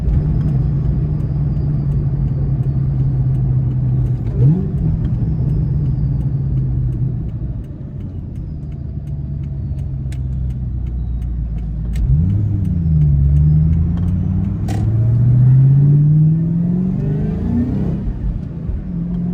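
A 500-horsepower Terminator SVT Cobra engine drones loudly from inside the car while driving, rising in several revving pulls and gear shifts, with no talk over it.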